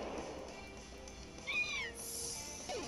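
A cat-like Pokémon cry from Pokémon Alpha Sapphire, a short rising and falling electronic meow that rings out once over faint game background sound, followed by a brief high chime.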